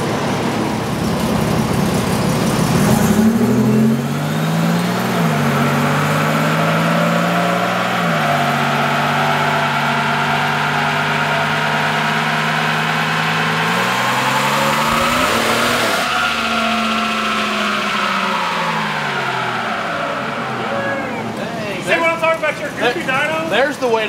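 A 1987 Buick Grand National engine runs loud and continuous on a dyno, its pitch rising and falling as it revs, with a shift partway through and a rattly settling at the end.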